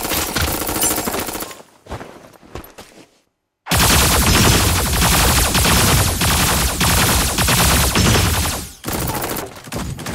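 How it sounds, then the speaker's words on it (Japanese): Gunfire in the mecha battle game Super Mecha Champions: loud sustained machine-gun bursts that break off into near silence, then resume as a dense, continuous volley. "銃声が聞こえた気がする。"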